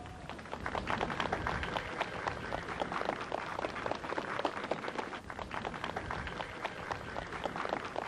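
Steady audience applause at a 1996 harvest festival in Komorniki near Poznań, a dense, even patter of many hands clapping together for the whole stretch, heard from a little distance.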